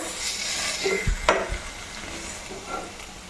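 Fish fillets coated in masala sizzle and fry in a pan, a steady crackle with a few soft clatters and a sharper knock as the pieces are flipped over.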